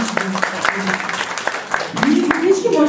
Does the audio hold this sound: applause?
yes